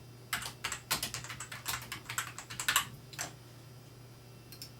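Computer keyboard typing in bursts of quick, close keystrokes entering details into a 2004 Claris FileMaker Pro contact manager, with short pauses and a steady low hum underneath, no voices.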